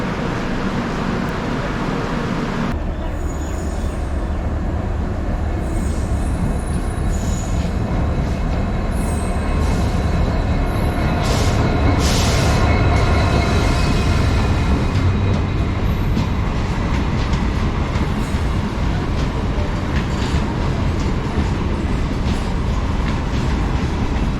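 A train hauled by a WAG 12 electric locomotive rolls at Madgaon station in the morning, giving a loud, continuous rumble of wheels and wagons with steady clatter and occasional higher squeals throughout.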